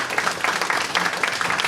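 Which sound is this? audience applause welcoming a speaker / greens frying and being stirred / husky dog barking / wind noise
audience applause welcoming a speaker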